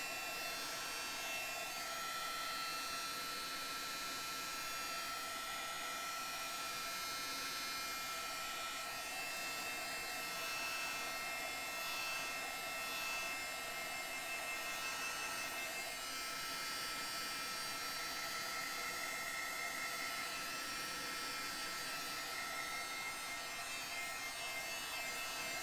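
Heat tool drying a paint layer on a Christmas art journal page, a steady breathy blowing hiss with no break for the whole stretch, close and fairly loud.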